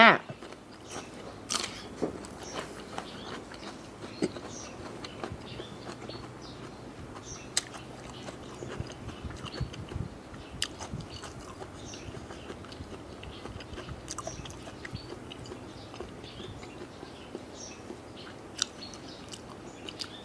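Spicy fresh shrimp salad with shrimp sauce, being bitten and chewed up close, with steady wet crunching and crackling bites repeating throughout and no talk.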